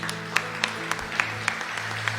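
A church congregation claps during a service. Dense, moderately loud applause runs throughout, with a few sharper claps standing out and a low hum beneath it.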